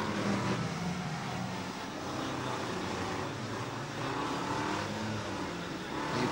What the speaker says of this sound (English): I think we've got 4 cars still going